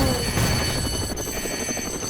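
Helicopter in the Roblox game Mad City, a steady rotor whir with a rhythmic chop holding at an even, fairly loud level throughout, with no voices.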